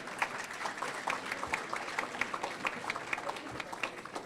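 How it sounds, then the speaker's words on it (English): Applause from the crowd at a Black history scholarship gala, a fairly quiet, even patter of many hands with some individually audible claps, sustained throughout without pause. "Can we give him another round of applause, please?"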